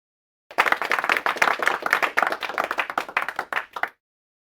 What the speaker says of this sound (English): there should be an applause with that